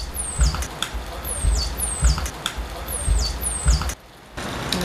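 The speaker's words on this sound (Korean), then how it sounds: "돌고래 소리를 채집해 분석하는 것도 그 중 하나죠." Indo-Pacific bottlenose dolphins recorded underwater: a repeating series of high descending whistles, about four in a row, with scattered clicks and low thumps under a steady water hiss, then a brief quieter gap.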